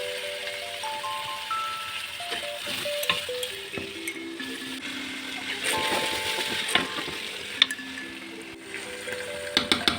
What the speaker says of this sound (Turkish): Artık kızırtılar çıkmaya başladı yağda